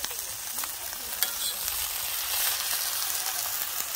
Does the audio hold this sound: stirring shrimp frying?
yes